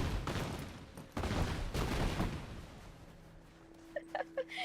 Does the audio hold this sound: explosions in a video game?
yes